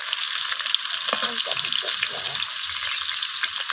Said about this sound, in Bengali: আলু আর মূলোটাকে আমি ফোড়নের সাথে ভাজা ভাজা করে নিচ্ছি